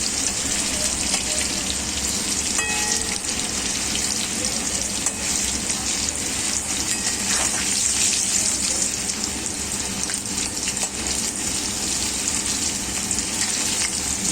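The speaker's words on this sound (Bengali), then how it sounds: "তার আগে চিকেনের আলুটা ভাজছি" Potatoes for a chicken curry frying in a pan give a steady, close crackling sizzle that runs without a break, with no talk over it.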